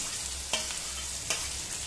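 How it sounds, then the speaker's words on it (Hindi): Chopped garlic, finely chopped onion and green chillies fry in a pan over a medium flame, giving a steady close sizzle with two short stirring scrapes. "इन सारे इंग्रेडिएंट्स को हम मध्यम फ्लेम पे हल्का सा ब्राउन होने तक भूनेंगे।"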